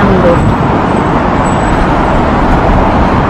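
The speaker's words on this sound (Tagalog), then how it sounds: "Nagta-traffic din pala dito." Road traffic on a Tokyo street, a loud continuous roar of passing cars and buses close to the listener, steady with no pauses.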